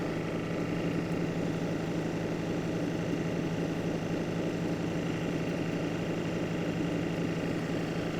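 A lapidary wheel runs steadily while Lake Superior agate cabochons are shaped on it, a constant, even motor whir and grinding hum throughout with no talk.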